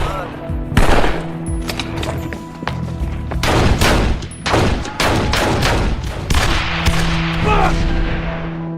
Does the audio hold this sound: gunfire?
yes